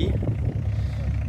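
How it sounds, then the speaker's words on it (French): A Citroën Visa diesel car arriving, its low engine rumble steady and fairly close throughout with faint voices around at an outdoor Citroën gathering. "Une autre Visa diesel, celle-ci,"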